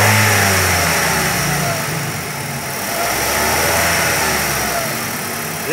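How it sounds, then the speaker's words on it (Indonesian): A 2012 Mazda Biante with a 2.0L engine and an HHO fuel-saver fitted revs steadily in a loud, sustained mid-pitched roar that dips and swells slightly, heard close up with no talking. "Kita ukur, tolong digas lagi ya."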